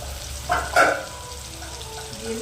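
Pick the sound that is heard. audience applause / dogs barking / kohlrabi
kohlrabi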